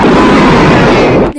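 A loud, dense blast of broadband noise from a bomb explosion, sustained and roaring for over a second before cutting off abruptly, with no talk over it.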